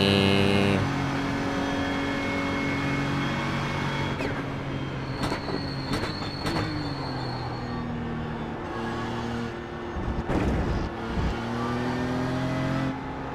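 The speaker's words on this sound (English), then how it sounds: "It is just the sound of endurance racing, isn't it?" A GT3 race car engine during an iRacing endurance race, heard as a steady, fairly close engine drone that shifts pitch through gear changes, with several short sharp clicks and a brief louder rev surge.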